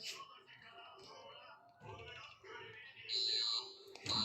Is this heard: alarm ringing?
yes